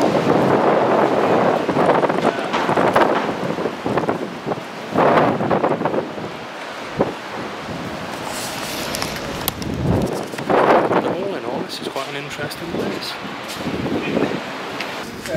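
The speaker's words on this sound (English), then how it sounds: "It's a bit windy, as you can probably hear." Strong gusts from Storm Brian roar and buffet the microphone around derelict abandoned buildings, surging and easing in loud rumbling waves with brief quieter lulls.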